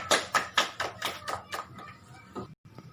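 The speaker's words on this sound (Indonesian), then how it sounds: "Berikan tepuk tangan untuk kita semua." A handful of children in a fifth-grade classroom clap together in a slow, even rhythm of about eight strong claps, close and fairly loud, then the clapping stops abruptly.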